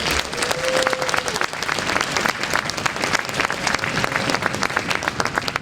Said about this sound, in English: if he can step out and you can give him a quick round of applause.